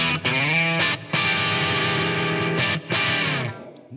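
Electric guitar through a Blackstar AMPED floorboard amp set for an EL84-style tone, with a trem arm in use: loud, driven sustained chords with wavering pitch, broken by two short gaps and played close without talk.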